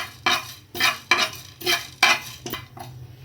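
Fenugreek seeds roasting in a pan over low gas, stirred with a utensil in a run of about six close scraping and rattling strokes with a faint sizzle underneath.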